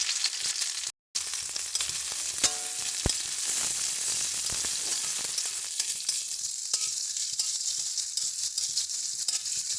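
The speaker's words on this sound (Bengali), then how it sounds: "পেঁয়াজটাকে হালকাভাবে একটু ভেজে নিচ্ছি।" Chopped onions fry in well-heated oil, giving a steady, close sizzle with occasional clinks and scrapes of stirring, with no voices.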